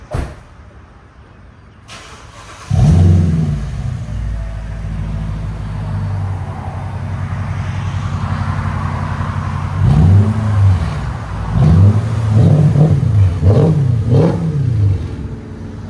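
A Mercedes SL 550 5.5L V8 with muffler delete idles with a deep low rumble, then from about ten seconds it is revved in five quick, throaty blips, loud and close.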